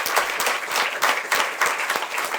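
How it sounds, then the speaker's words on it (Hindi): Audience at a Hansraj College event stands and applauds, a dense, steady burst of many hands clapping that fills the hall without pause, with no talking over it. "आप सब खड़े होकर तालियों के द्वारा न केवल इनका सम्मान करेंगे"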